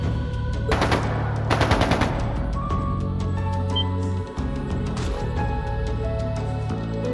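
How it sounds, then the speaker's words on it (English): Rapid automatic gunfire from Jaegers in the video game Trails of Cold Steel 2, with two loud dense bursts early on over a continuous game music bed and layered sound effects, no voices. "That sounded like gunfire."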